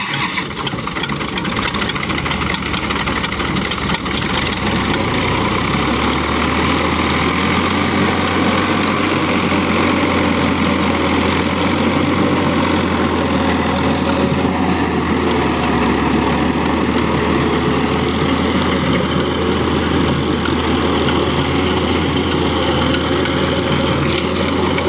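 A Euro Ford 4560 60 HP tractor running a 42-blade rotavator in second low gear on a farm field, a loud continuous engine drone with a deeper steady rumble settling in after a few seconds, no talk over it.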